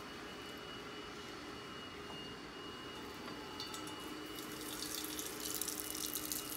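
Tap water runs steadily into a hot pot in a home kitchen, a soft, close hiss that grows louder and splashier toward the end, with no talk.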